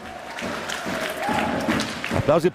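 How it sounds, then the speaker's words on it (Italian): Applause from an arena crowd at an Italian Serie A1 roller hockey match rises beneath an excited commentator talking quickly in Italian over it, the clapping steady and moderately loud. "applausi per lui"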